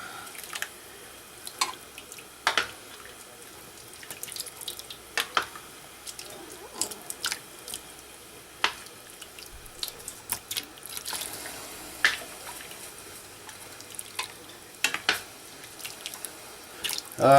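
Scattered splashes and drips of boiling water poured by the scoop over a duck close by, irregular and wet, with quiet gaps between pours.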